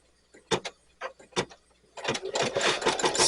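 An embroidery machine threaded with white stitches out a snowflake design, starting with a few separate mechanical clunks and taps before settling into a loud, continuous rapid stitching whir up close.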